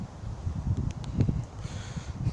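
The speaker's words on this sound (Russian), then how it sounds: "на улице заметный ветер присутствует" Strong wind blowing outdoors, a steady low rumbling buffet that runs through the whole stretch, close on the microphone with no voices.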